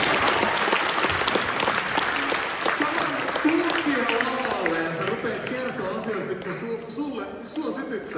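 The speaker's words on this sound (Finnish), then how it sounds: "Annetaanko aplodit tälle?" Applause from an audience at a live music performance, dense clapping at first that gradually thins and fades over several seconds, with voices and crowd noise mixed in.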